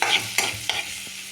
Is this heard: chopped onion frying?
yes